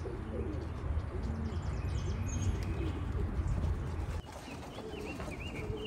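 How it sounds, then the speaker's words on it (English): Racing pigeons cooing in a loft, several soft low coos repeating through the stretch alongside light chirps and shuffling, close and moderately quiet, with no one talking. "they're all pigeons"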